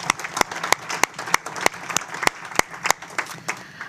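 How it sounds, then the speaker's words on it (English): A few people at a transit committee meeting clap briefly and sparsely, giving distinct sharp claps in a loose, fairly regular rhythm over a quiet room. "So a brief round of applause for Roe, and thanks for his contributions."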